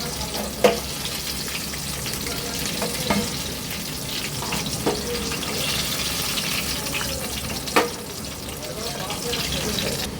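Kachori fry in oil over a low flame, giving a continuous bubbling sizzle broken by a few sharp clinks and scrapes from the frying tool. A voice speaks over the frying.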